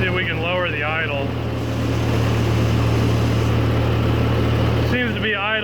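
A 1940s tractor engine runs at a fast, steady high idle close by, with its exhaust just under the operator. It is a loud, continuous drone, and someone talks over it at the start and end.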